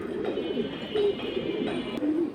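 Pigeons in a breeding loft or sale pen, including Afsan bagh birds, coo steadily and overlap in a dense chorus over a constant background hum, with a few clearer coos standing out.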